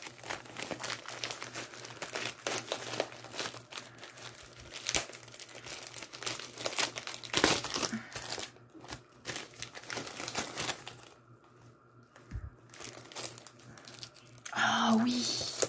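A padded envelope holding a diamond painting kit is torn open and unwrapped with close, continuous crinkling and tearing, under occasional talk.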